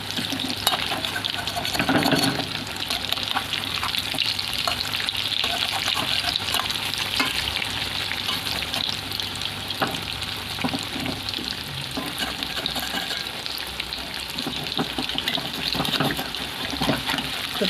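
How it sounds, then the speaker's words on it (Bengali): Pointed gourd chops stuffed with potato fry in hot oil, a steady sizzle running throughout with occasional stirring and scraping, fairly quiet and close, no voices. "তো এইভাবে লাল লাল করে ভেজে নেব"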